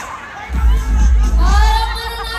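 Crowd shouting loudly at the Metro Manila Film Festival Parade of Stars, a dense roaring cheer of many voices that swells and surges close by for a couple of seconds.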